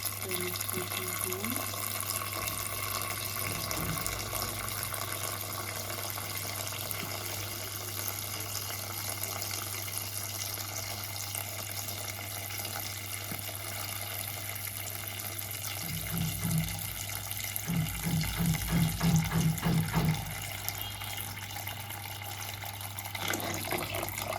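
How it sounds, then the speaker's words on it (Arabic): Water runs steadily into a pot of lentils for soup, with a constant background hum throughout. "وهنبتدي ان احنا نحط عليه ميه"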